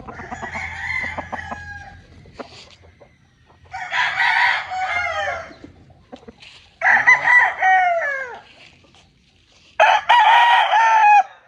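A Gilmore street breed gamefowl rooster crows repeatedly and loudly, in three or four long, strained calls with short pauses between them, close by. Softer clucking comes from it between the crows.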